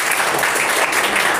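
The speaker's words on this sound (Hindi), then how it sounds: "अनबिलीवेबल, जोरदार तालियां इनके लिए" Studio audience at a spoken English practice session breaking into loud, continuous applause, a dense wash of clapping filling the whole short stretch with no pauses.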